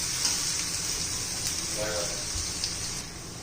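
Onions fry in a pan for chole masala, a soft, steady sizzle close by, with a faint watery rush running underneath throughout.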